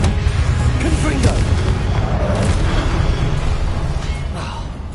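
A Confringo blasting curse spell explodes in Hogwarts Legacy on PlayStation 5, a continuous roar of booming blasts and rumbling bursts, loud and dense, with crackling flashes layered over a heavy low rumble.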